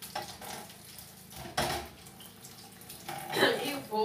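Water poured from a spoon onto couscous flour in a home kitchen, short splashy pours in a few bursts, close up and moderately loud, with a little utensil clatter between them.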